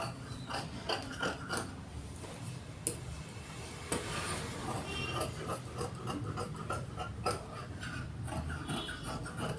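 Scissors cutting chudidar fabric with a floral design, a steady series of crisp snipping and rasping strokes close by, with occasional sharper clicks.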